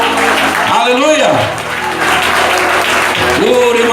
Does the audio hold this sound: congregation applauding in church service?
yes